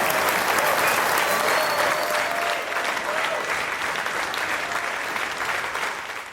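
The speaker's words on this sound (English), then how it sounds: "The room is already on its feet by the time she finishes," Sustained, dense applause fills a dinner hall after a speech, loud and steady from the start and tapering only slightly toward the end, with a standing audience clapping together.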